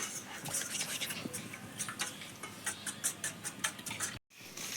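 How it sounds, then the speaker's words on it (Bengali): Eggs beaten in a bowl with a utensil: fast, even ticking taps of the utensil against the bowl, close and moderately loud, continuing steadily before stopping abruptly. "ডিমটা আমি ভালো করে ফাটিয়ে নেবো"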